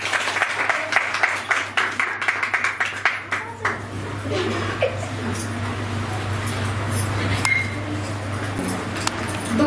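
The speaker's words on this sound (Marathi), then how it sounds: "एकदा साहित्यिक सखी ग्रुपसाठी जोरदार टाळ्या" Loud audience applause at a book launch ceremony for the Sahityik Sakhi literary group, dense clapping for about four seconds that fades into murmuring crowd and a low steady hum.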